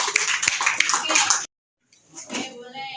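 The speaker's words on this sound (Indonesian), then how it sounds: "tepuk tangan untuk Vino." A classroom of children claps for a classmate in a brisk, busy burst that stops abruptly, followed after a short gap by quieter sounds and a voice.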